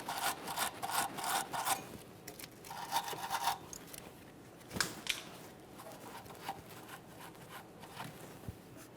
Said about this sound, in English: I'm just going to use a wire brush, clean up that fitting so I can give it a thorough inspection